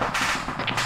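A single gunshot in the military video game ArmA 3, loud and close, with a sharp crack and a short rolling tail, heard alone with no talk over it.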